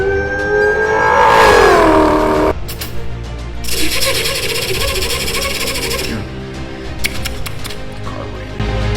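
A man imitates a sports car's exhaust with his voice into a microphone wrapped in thick toilet paper, giving a rising revving whine, then a burst of crackling, sputtering exhaust noise and a short rumbling finish.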